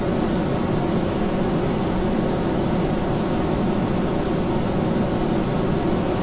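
A spaceplane's jet engine roars with afterburners lit in Kerbal Space Program, a loud, steady, unbroken rumbling roar with no voices.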